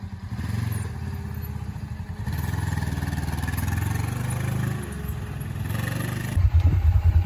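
A Kubota Sidekick utility vehicle drives along with a close, steady engine drone and rattling from the body, easing briefly before a heavier thumping rumble near the end.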